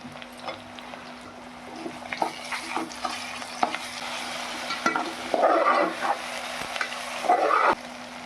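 Curry leaves frying in a pan while cooking vankaya kura: soft crackling sizzle with stirring clatter, growing into louder bursts of spitting near the end, close and otherwise quiet.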